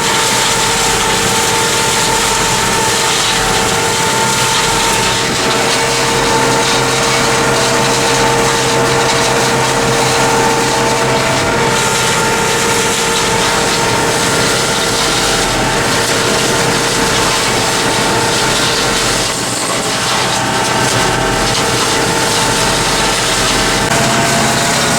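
A Bomford hedge cutter mounted on a tractor trims a blackthorn hedge, its engine droning steadily and continuously with a broad, even mechanical roar and faint crackling of cut branches throughout, with no talking.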